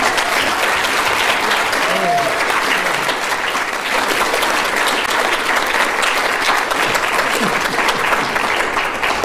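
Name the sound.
audience applause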